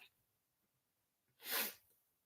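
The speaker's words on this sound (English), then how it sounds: "Okay, that was a really quiet sneeze." A single soft, muffled sneeze, brief and fairly quiet, in an otherwise still room.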